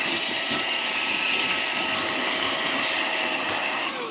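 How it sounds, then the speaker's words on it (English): A vacuum cleaner sucking up blue glitter, a loud steady motor whine with airy rushing held for several seconds before tailing off slightly at the end, no talking. "I got to vacuum up some of this glitter over here."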